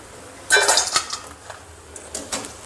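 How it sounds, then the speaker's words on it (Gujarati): Crisp deep-fried Bhavnagari gathiya are tossed and handled in a pan, giving a few dry, brittle clattering rustles in short bursts, close and fairly loud, with no voices. "તમે ગાંઠિયાનો અવાજ સાંભળી શકો છો કે કેટલા સરસ ક્રિસ્પી થયા છે."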